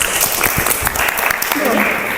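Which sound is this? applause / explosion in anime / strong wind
applause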